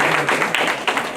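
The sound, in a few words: audience applauding at a ceremony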